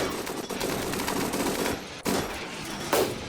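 Rapid continuous minigun and gunfire bursts in the Rimworld video game, dense and loud with short pauses between volleys, no voices.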